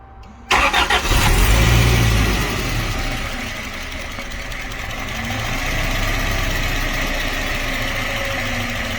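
A Toyota Previa minivan engine cranks and catches with a loud roar, then settles into a steady, close idle that hums evenly for several seconds.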